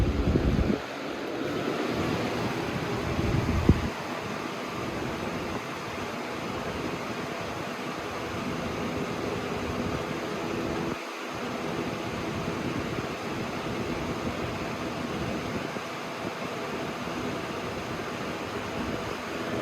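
A Holmes box fan, model HABF-20 or HABF-25, runs on high speed with a steady, loud, broadband rushing whoosh that holds even throughout, with no talking.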